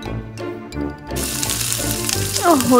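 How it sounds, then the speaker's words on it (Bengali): A beef burger patty with cheese fries in a pan, giving a loud, steady sizzle and crackle throughout with some clatter, with no talking over it. "এটাকে আমি ভালোভাবে ভেজে নিব।"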